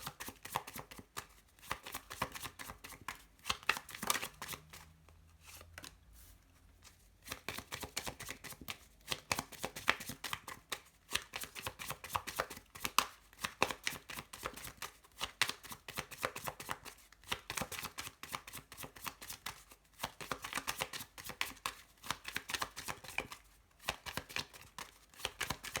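Tarot cards are shuffled by hand in a steady, close stream of soft riffling and slapping flutters, continuing at length with only brief pauses and no talk.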